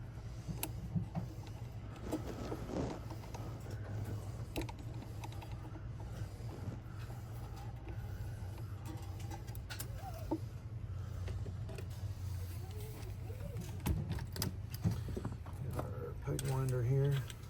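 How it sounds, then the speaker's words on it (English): A peg winder turns the tuning pegs on a Gibson ES-355 fitted with a Bigsby, giving a steady creaking, ratcheting mechanical whir over a constant low hum, with louder winding toward the end. "Peg winder here."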